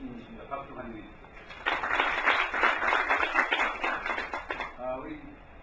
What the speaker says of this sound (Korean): 박수 환영해 주십시오